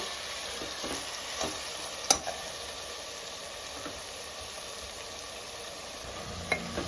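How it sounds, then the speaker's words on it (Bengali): Mutton fries with spices in a pan with a steady low sizzle, broken by a few sharp clicks and scrapes of stirring, close by and without any talking. "জাস্ট 2 থেকে 3 মিনিট আমি একটু হালকা ভেজে নেব"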